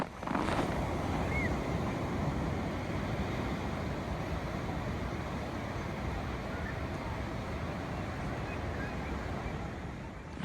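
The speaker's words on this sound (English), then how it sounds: "She sent me a video of ocean." Ocean surf near Los Angeles, heard as a faint, steady wash of waves and wind buffeting the microphone throughout, without clear breaks.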